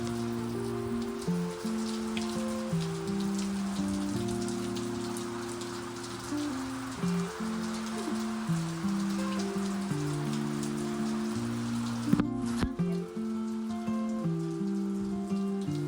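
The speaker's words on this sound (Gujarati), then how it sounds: "શાંતિ બહાર વરસાદ આવે છે" Heavy, steady rain falls outside, a continuous patter and wash heard under a looping musical backing, with one sharp crackle near the end.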